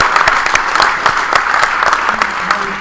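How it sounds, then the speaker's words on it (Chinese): A church congregation at a bilingual Sunday morning worship service bursts into sustained applause, a dense, steady clatter of many hands clapping close by, with no talk over it, honoring a group of twelve-year-old girls who performed. "所以我们要给她们多一轮的掌声。"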